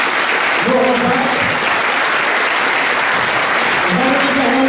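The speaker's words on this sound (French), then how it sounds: "je vous demande d'applaudir très fort Sébastien Jumel, Laurent Jacques," A crowd applauds steadily throughout at a 2017 legislative election campaign rally in Dieppe, Normandy, with a dense, continuous wash of clapping and a voice speaking over it in places.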